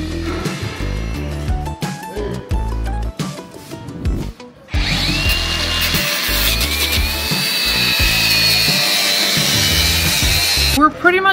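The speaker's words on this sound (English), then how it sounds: "what we're doing is we're cutting these brackets right here." A power tool cuts through rear axle brackets on a damaged vehicle, giving harsh grinding and rasping that build into a steady, loud high-pitched whine, close by, with voices talking at the start.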